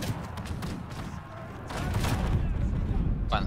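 Volley fire during a siege battle in the game Conqueror's Blade: a rumbling, crackling barrage of shots that swells partway through, with a voice talking over it.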